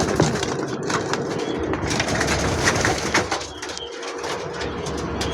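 Many pigeons coo together in a wholesale pigeon market, a steady dense murmur of overlapping low calls with scattered clicks and shuffling, constant throughout and fairly close.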